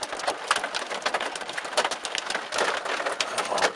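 Pea-size hail falls during a severe thunderstorm, a dense, even clatter of many small hits on hard surfaces, steady and moderately loud with no voices over it.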